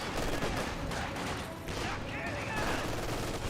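Gunfire raining on grenadiers in the video game Company of Heroes 2, a dense, continuous rattle of rifle and machine-gun shots that stays loud and unbroken throughout.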